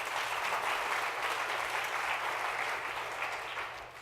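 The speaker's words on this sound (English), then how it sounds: "So let's give our volunteer a round of applause." Audience applause for a volunteer at a talk, a full, even round of clapping from a crowd that holds steady and then begins to taper off.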